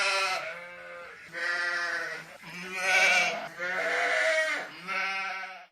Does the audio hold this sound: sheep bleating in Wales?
yes